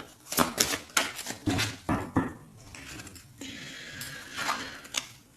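Playing cards cut and riffled by hand during a tarot-style reading, a quick series of sharp papery slaps and flicks at close range, followed by a softer sustained shuffling rustle.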